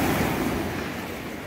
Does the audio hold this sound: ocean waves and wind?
yes